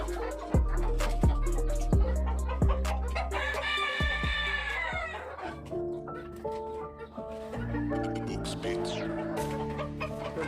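Sonali chickens on a rooftop farm in Kolkata cluck and crow continuously, several birds calling at once with rising crows and busy overlapping clucks, loud and close.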